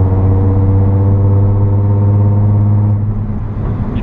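A Nissan 350Z fitted with a Tomei axleback exhaust drones steadily under light acceleration, a loud, constant low engine tone that holds for about three seconds before easing off.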